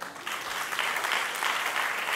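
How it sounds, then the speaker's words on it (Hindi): An audience applauds at a corporate company profile presentation, a dense steady clapping that swells slightly and holds at a moderate level throughout. "उनके लिए एक हाथ ताली देना"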